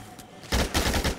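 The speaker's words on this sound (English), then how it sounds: "you're obviously ready to use a machine gun now. No, I'm shooting faster" Machine gun fire in the video game Dead Rising 2, a short loud burst of rapid shots starting abruptly after a quiet moment.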